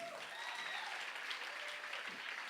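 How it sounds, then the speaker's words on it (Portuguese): A church congregation claps during a worship service, a steady continuous patter of hands heard from a distance, even in level throughout, with faint voices mixed in. "Uma salva de palmas para o Nakai."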